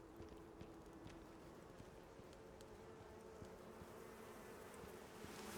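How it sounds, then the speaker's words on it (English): Bees buzzing in a cave in the survival game Icarus, a steady low insect drone running throughout at moderate volume, with faint scattered clicks and movement noises over it. "Okay, I hear bees."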